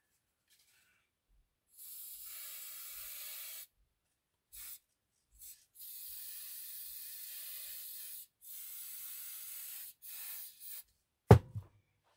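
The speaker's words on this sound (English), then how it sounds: "use it for spray painting as well as putting on the hairspray" An aerosol can of hairspray hisses in several sprays of varied length, some a few seconds long, separated by pauses, ending with a sharp knock.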